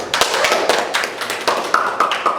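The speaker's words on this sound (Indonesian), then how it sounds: "Tepuk tangan dulu dong." Scattered hand claps from a small group at a university international relations student gathering in Bandung, with sharp, uneven claps of moderate loudness and a few standing out, no talking over them.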